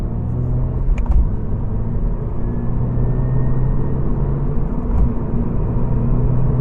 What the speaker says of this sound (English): oh, when it changes gears, it's just violent.